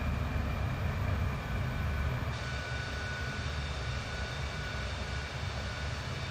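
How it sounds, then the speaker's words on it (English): An Avro Vulcan bomber in Microsoft Flight Simulator, flying back toward Scampton with its speed brakes deployed, gives a continuous loud jet roar and airflow rush that shifts slightly partway through. "That's the noise of the speed brakes behind us being deployed"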